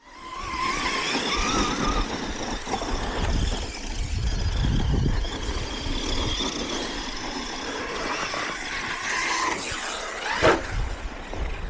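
A six-wheeled Tamiya Konghead brushless RC car races on a track, its electric motor whining steadily amid rumbling and occasional tire scrubs, with a sharp impact near the end and no talking.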